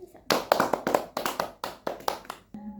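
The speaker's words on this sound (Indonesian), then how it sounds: "Oke, tepuk tangan semuanya," Children clap their hands together in a classroom in quick, distinct bursts, about ten sharp claps in an uneven rhythm, close and fairly loud, ending with a short vocal sound.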